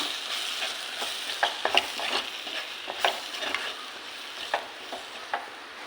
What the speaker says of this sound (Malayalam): അടുത്തത് മല്ലിപ്പൊടി കുറച്ച് കുരുമുളക് പൊടി എല്ലാം കൂടി നമുക്കൊന്ന് മിക്സ് ചെയ്യാം